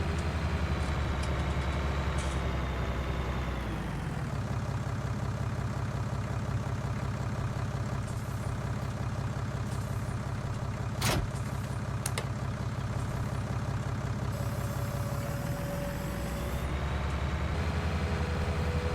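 A tractor engine in Farming Simulator 19 pulls a weeder with a steady mid-pitched drone. It drops to a lower, steadier hum in the middle and then revs back up near the end, with one sharp click partway through.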